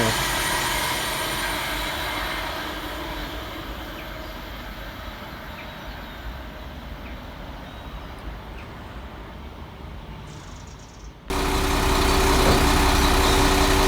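Class 196 diesel multiple unit 196004 rolls through a suburban station with a steady, loud low rumble and engine drone, easing slightly before a sudden jump in level near the end.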